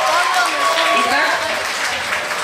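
Audience applause at a Mister and Miss contest, a steady wash of clapping from a crowd with a few voices calling out over it.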